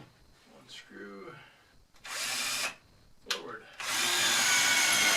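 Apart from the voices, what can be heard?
power drill pre-drilling screw holes in wood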